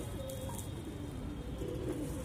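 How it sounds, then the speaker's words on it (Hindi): A Saharanpuri male pigeon gives a soft, low coo against a steady background hiss, faint and brief, with no talk. "ये है नर"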